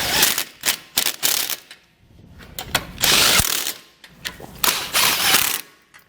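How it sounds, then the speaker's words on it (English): Ratchet with a 15mm socket snugging down tow hitch bolts on a 2017 Volvo V90, quick bursts of close, sharp clicking in irregular runs with short pauses between strokes. "I'm just going to snug down all of our bolts here"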